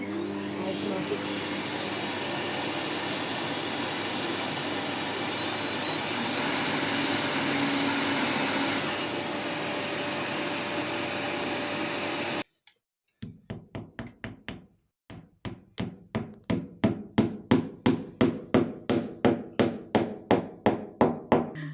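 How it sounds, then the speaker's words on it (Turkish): While a wall bracket for a Dyson V12 cordless vacuum is being mounted, a drill and a vacuum catching the dust make a loud, steady roar with a high whine for about twelve seconds. A quick run of sharp, rhythmic knocks follows and grows louder. "Arkadaşlar bir matkap yardımıyla şimdi duvarı deleceğiz."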